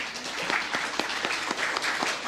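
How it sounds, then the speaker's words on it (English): Congregation applauding during a Sunday church service to welcome a newborn daughter, a moderate, fairly steady patter of many hands clapping with a few sharper individual claps standing out. "So if you want to give them another round of applause"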